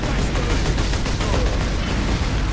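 Orcs fire guns in the Warhammer 40k Space Marine video game, a dense, continuous barrage of rattling gunfire and booms that fills the whole stretch without letup.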